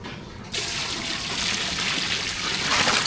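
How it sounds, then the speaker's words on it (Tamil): Water poured into a pot of mutton biryani with rice and masala: a steady, close splashing gush that starts abruptly after a quiet moment and keeps flowing evenly to the end. "தண்ணி சேர்த்தாச்சும் நல்லா கலந்து விட்டு மூடி வச்சிடலாம்"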